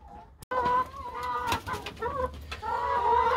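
Laying hens feeding from a homemade bucket feeder, clucking and low cooing calls over soft pecking and scratching, close and fairly loud, with a sharp knock near the start.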